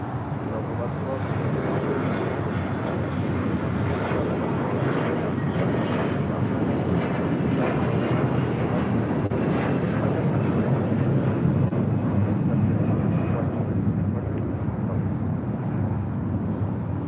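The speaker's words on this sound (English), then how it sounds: "Our next departure here on the south side is Delta Airlines flight 715, heading to Atlanta, Georgia on an A321." Delta Airlines Airbus A321 departing from the south side at LAX, a steady broad roar of jet engines holding at constant loudness throughout, with a low rumble and some wind buffeting.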